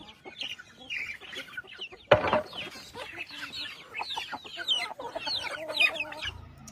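Chickens on a poultry farm clucking close by, with a busy overlapping chatter of short calls and one sharper, louder squawk partway through, plus a few low thumps near the end.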